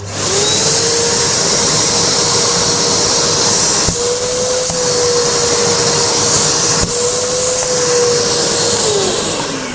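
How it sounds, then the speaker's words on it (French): A Karcher 4001 Plus vacuum cleaner runs at full suction, a loud steady motor whine and airflow roar that holds for the whole stretch with brief dips in pitch, close up and with no talking. "Test de l'aspiration. Le Karcher 4001 Plus."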